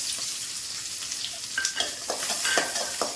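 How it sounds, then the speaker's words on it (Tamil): Onions, green chillies and garlic sizzle steadily in a pan for drumstick leaf kuzhambu, while a spatula stirs with several sharp scraping strokes close by. "போட்டு வதக்குவோம்"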